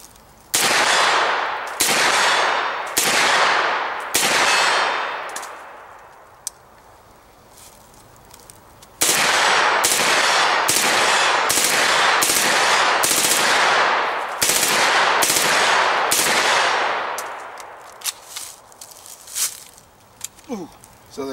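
An airsoft MP5 fires single shots in sharp, close bursts of snapping reports, a run of several shots, a pause, then a longer string of evenly spaced shots, with faint handling noises afterward.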